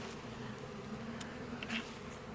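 Honeybees buzzing at an open hive after accepting a new queen, a steady low hum with a few louder passes close by.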